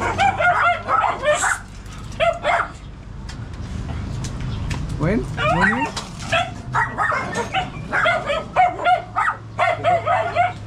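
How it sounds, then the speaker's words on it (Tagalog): Several dogs bark, yip and whimper in bursts on the second floor of a house, with people talking over and between the barks. "Maingay doon yung mga aso natin, mga makulit."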